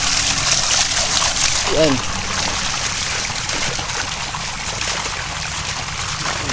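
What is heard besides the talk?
strongly flowing water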